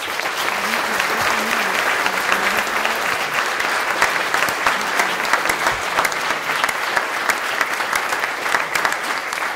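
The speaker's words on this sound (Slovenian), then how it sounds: "Prosim en kratek aplavz." A brief round of audience applause at a ceremony, steady dense clapping from many hands sustained for several seconds at even loudness.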